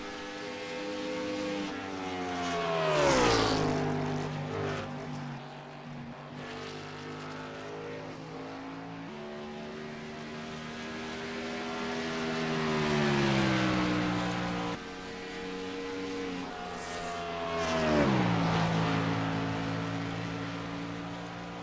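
Race car engines scream around a circuit during a racing broadcast, passing in repeated waves of rising and falling pitch as cars sweep by and their revs drop off, loud and far-carrying with no talk.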